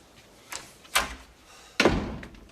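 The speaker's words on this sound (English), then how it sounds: "Yep, close the door." A door is pushed shut indoors: a couple of lighter knocks, then a firm, loud slam with a brief ringing decay, all close by.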